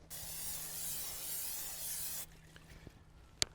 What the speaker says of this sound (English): I want to take and spray the inside with some nonstick oil